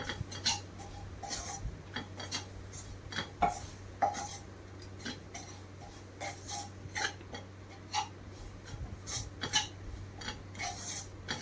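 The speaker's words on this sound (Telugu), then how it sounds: "గరం మసాలా, ఈ మసాలాలన్నీ కూడా ఆనియన్స్కి పట్టేలాగా ఒక 2 మినిట్స్ ఫ్రై చేసుకుందామండి" Onions coated in garam masala and chilli powder are stirred in a pan for a mushroom curry, giving scattered spoon-on-metal clicks and scrapes over a faint steady hum, with no talk.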